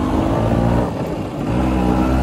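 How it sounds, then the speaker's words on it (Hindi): An NV LML scooter riding in second gear, its engine buzzing and revving steadily up close with a brief dip in the middle, no speech. "तो भाई अभी हम चला रहे हैं स्कूटर"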